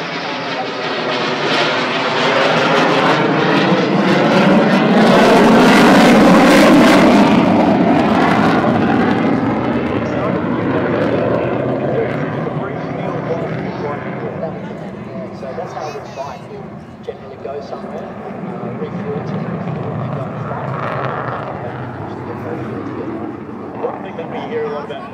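An F/A-18 Hornet jet passes overhead, a loud broad engine roar that swells to a peak early on, then slowly fades and lingers as a distant rumble.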